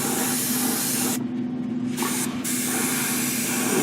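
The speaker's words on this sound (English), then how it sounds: "I've got quite a bit of paint left, so I'm going to spray" Steady hissing bursts of aerosol spray paint onto a 1/32 scale Bf 108 model aircraft, close and loud, briefly pausing twice before resuming.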